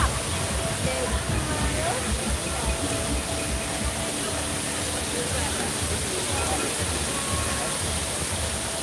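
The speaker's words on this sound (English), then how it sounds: "Oh, the waterfall's getting me wet." Waterfall spray at Disney's Animal Kingdom on a windy day, a steady broadband rush of falling water running continuously up close while a voice speaks over it.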